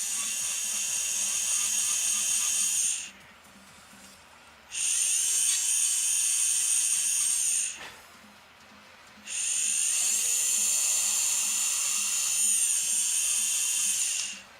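A dental lab handpiece spinning a bur at the bench, a loud high-pitched whine running in three long bursts separated by short pauses as it starts and stops.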